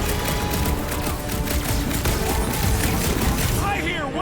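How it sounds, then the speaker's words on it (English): Gunfire in the Guardians of the Galaxy video game, a dense continuous barrage of rapid shots and blasts under game music, with voices talking over it. "I hear way too much shooting."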